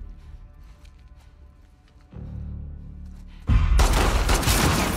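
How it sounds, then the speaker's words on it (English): Covering gunfire in The Last of Us Part 2: a quieter stretch steps up at about two seconds, then a loud, dense burst of shots fills the last second and a half, close and sustained with no talk. "I'll give you covering fire."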